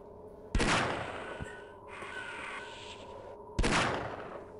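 Two loud revolver shots in Half-Life boom out a few seconds apart, each with a sharp crack and ringing tail, while quieter game ambience fills the gap between them.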